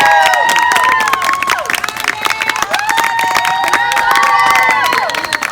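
Audience applause and cheering from a crowd welcoming a guest to the stage at a live figure-painting event, dense and loud throughout, with whoops and shouts rising over steady clapping.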